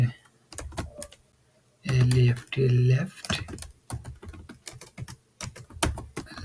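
Computer keyboard keys clatter in quick irregular bursts while a web page layout is being edited, with a firmer press like the enter key, and two louder thumps near two seconds in; close and moderately loud, with speech mixed in.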